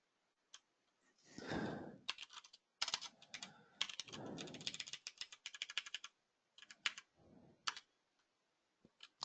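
Quiet bursts of computer keyboard typing in a middle school classroom, with clustered rapid key clicks and a few isolated taps separated by pauses, close and soft, no talking.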